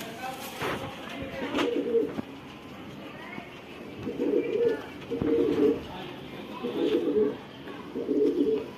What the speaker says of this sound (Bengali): এখানে যে কবুতরগুলো রয়েছে এগুলো সব মাদি কবুতর।